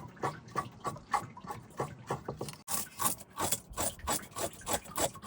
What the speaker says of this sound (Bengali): আমি ভোলা মাছগুলো কাটে নিচ্ছি এগুলো কাটে ভাজা করব